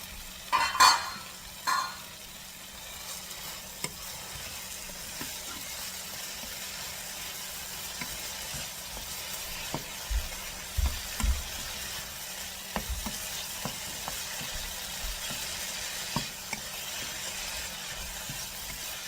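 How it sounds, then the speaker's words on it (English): Sweet pepper flakes fry in a covered pan for a shrimp stew. A low, steady sizzle runs throughout, broken by scattered clicks and knocks. A louder clatter comes near the start. "Now I'll add the sweet pepper flakes"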